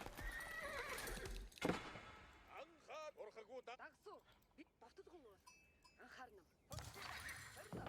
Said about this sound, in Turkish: atlar ne yapıyorlar şahlanıyor mu?